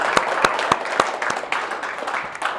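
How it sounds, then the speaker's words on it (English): A workshop audience in a personal development seminar gives a round of applause, with a few sharper individual claps standing out over a steady spread of hand-clapping that continues throughout. "Let's give those people a round of applause"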